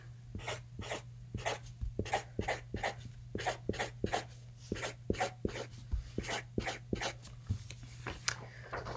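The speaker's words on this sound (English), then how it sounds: "So I'm going to draw 3 cakes under each family" Pen drawing cakes on paper, a run of quick rhythmic scratching strokes close to the microphone over a steady low electrical hum.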